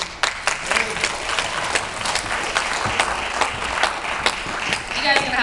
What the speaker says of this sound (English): So this part's the easy part, the clapping,